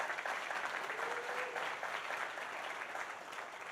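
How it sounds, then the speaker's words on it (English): An indoor audience at the opening of Delta's new concourse at LaGuardia airport applauds, a dense, even clapping wash lasting several seconds, with faint voices mixed in. "Let's give them a round of applause."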